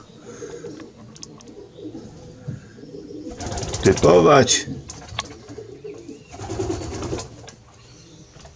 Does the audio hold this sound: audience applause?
no